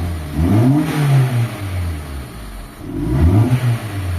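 Toyota GLI car engine revved twice, each rev rising and falling in pitch over a low, steady idle, heard close and fairly loud.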